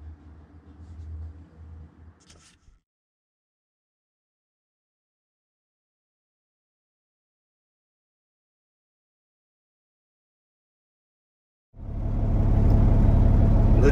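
A Peterbilt 389 truck rumbles at first, then goes silent for several seconds before a deep, loud engine drone surges in near the end as the truck moves off.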